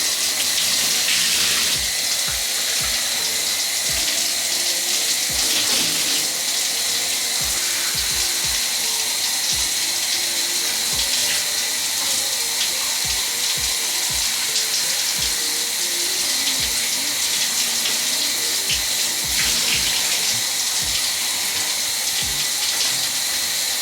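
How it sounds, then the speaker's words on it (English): Water running steadily during a rinse of braided hair: a loud, continuous close-up gush from a tap, with faint soft knocks and handling sounds underneath and no talking. "rinse this out"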